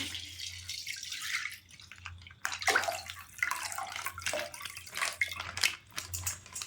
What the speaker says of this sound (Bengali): ফুল ক্রিম পাঁচশো দুধ দিয়ে দিলাম